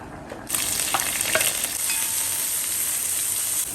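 Sliced onion, four green chillies, crushed ginger-garlic and curry leaves hit hot oil for beef dry roast, bursting into a loud, continuous sizzle after a short quiet moment, with stirring in the pan.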